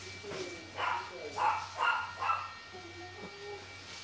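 A dog barking indoors in four clear, moderately loud barks in a row, then softer yips, over a low electrical hum in a workshop where a vintage dryer is being restored.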